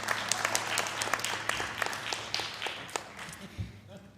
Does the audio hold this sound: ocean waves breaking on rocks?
no